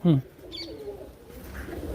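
A pigeon gives a short, loud coo close by at the start, followed by faint rustling and softer bird sounds in a quiet loft setting.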